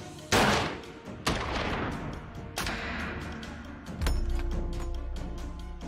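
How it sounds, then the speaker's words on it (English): A sniper rifle fires a series of heavy, booming shots at a 100-meter target, each blast followed by a long rolling echo, the reports coming about a second or more apart. "the rifle is calibrated for 100 meters. Five shots are fired into the target."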